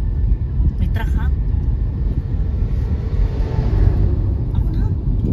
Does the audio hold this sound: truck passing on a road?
yes